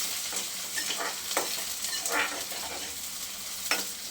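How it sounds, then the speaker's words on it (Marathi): Finely chopped onion, curry leaves and green chilies are sautéed in oil, giving a soft, steady sizzle broken by several light scrapes and stirs of a spoon, fairly quiet and without voices. "बारीक कट केला कांदा लगेचच कढीपत्ता आणि हिरव्या मिरच्या सुद्धा घालायचं छान सगळं परतून घ्यायचं तेलामध्ये"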